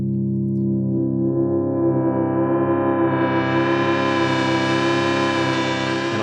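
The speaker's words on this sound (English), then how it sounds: "use one keyboard to control 2 Game Boys as a single 6-voice synthesizer" Chiptune synth chords from two Game Boys played together as a six-voice polyphonic synthesizer swell and sustain, bright square-wave tones layered richly, steady and loud with no talking.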